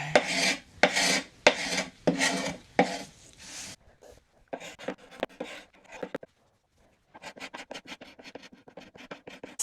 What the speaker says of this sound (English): So I'll see how scraping goes.